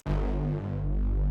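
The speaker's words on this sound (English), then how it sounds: "I made this bass in Serum. If you take out all the effects," A dry synth bass patch made in Serum with all effects removed, one sustained deep, buzzy note holding steady for over a second, loud and alone.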